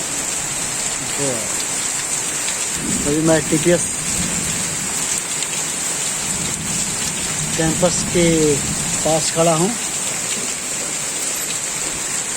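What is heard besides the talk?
heavy rain in Patna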